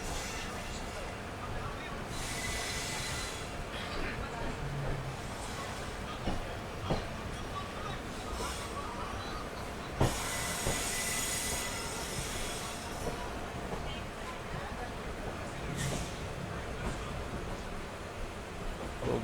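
Passenger train 56920, Vijayapura–Hubballi, pulling into Gadag junction: steady rolling rumble with wheel squeal and occasional sharp clanks, loud and continuous throughout.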